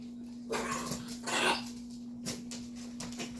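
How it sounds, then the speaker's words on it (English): Grouchy dogs growl and grumble in a few rough, breathy bursts at moderate distance over a steady low electrical hum, with no talking. "Ooh, grouchy dogs."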